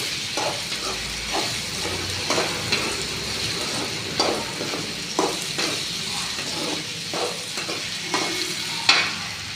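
Potatoes fry in oil with a steady, moderate sizzle, while a utensil stirs and scrapes through them in repeated short strokes about once a second.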